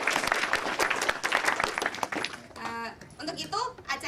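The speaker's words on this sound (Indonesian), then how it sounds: "Ya, tepuk tangan dong." Applause from a university orientation audience during a talk show, heard under a speaking voice at first, then fading as cheering voices and chatter take over.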